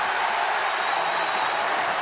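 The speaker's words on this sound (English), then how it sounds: "That has gotten the crowd right back into it" A basketball arena crowd at an Oklahoma State versus Oklahoma college game roars with a loud, steady wash of cheering and clapping that holds evenly throughout.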